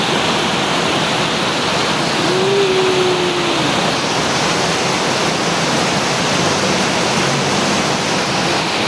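A steady, dense roar of heavy rain pours down without a break, loud and close, with no voices audible.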